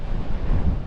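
Strong wind buffets the microphone in a continuous low, rumbling roar, loud and close, with no other sounds.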